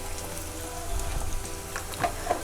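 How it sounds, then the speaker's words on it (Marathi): Chopped onion with garlic paste sautés in a pan for an egg curry, a soft steady sizzle with a few light crackles and stirring taps, close by and with no talk. "आता आपण परतून घेऊया"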